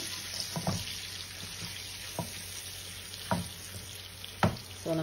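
Eggs shallow frying in a pan of oil for egg curry, a steady sizzle running throughout with a few sharp clinks and scrapes of a utensil, close and moderately loud, no talking.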